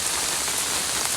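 Steady rain falling on a rural roadside, a dense continuous hiss of drops on surfaces with no voices.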